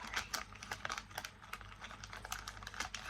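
Gift packaging is handled close up and gives a soft, crinkly rustle of quick rapid crackles, faint and steady throughout, with no talking.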